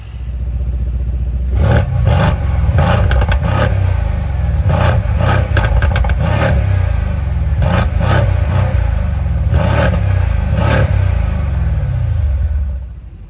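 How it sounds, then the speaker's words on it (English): A Mercedes C63 AMG V8 engine idles with a deep, lumpy rumble, punctuated by several sharp throttle blips, then cuts off at the end. "It's just a great engine overall."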